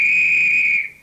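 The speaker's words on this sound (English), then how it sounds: "the Acme Thunderer football referee's whistle" Acme Thunderer football referee's whistle gives one loud, shrill, steady blast that lasts nearly a second, then trails off quickly into quiet.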